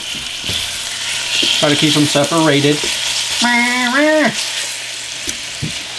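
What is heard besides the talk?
chicken sizzling in hot oil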